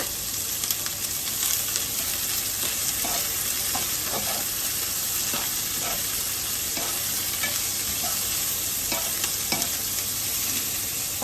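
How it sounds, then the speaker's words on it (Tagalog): Meat, onion, garlic and shrimp stirred and frying in a pan for pinakbet, a steady close sizzle with scattered scraping clinks of the utensil throughout, no talking. "Hinalo ko na yung sa karne, sibuyas, bawang, yung shrimp."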